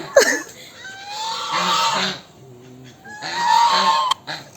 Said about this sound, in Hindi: ये देखिए उसकी झांकी, ये नॉर्मल बत्तख है।